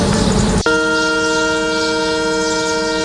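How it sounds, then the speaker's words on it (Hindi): A WDM 3A diesel locomotive sounds its horn at Bamanwali halt, heard from on board: rumbling movement, then a loud steady multi-tone blast that holds without a break to the end. "बामनवाली ने ट्रेन ने हॉर्न दिया और चलने को तैयार।"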